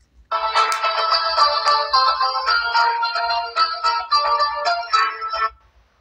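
A Calme C777 mobile phone plays its power-on tune, a bright electronic jingle of several seconds heard clearly and loudly on its own before it stops abruptly.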